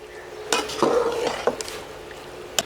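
Lentils, including masoor, mash, moong and chana dal, being stirred in a pot for haleem, a spoon scraping and knocking against the metal in a few short strokes, close up and clear.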